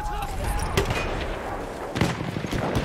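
An enemy machine gun firing in Battlefield 1, heard among other battlefield gunfire: dense, continuous rattling with a couple of heavier reports, loud and close, while voices shout over it.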